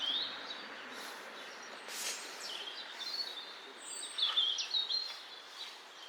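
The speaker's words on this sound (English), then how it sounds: "So I'm just trying to find this bird here singing away." Birdsong in woodland where a rare lesser spotted woodpecker is being sought: thin, high chirps and short song phrases come and go over a soft outdoor hiss, fairly faint, with a brighter burst of calls near the end.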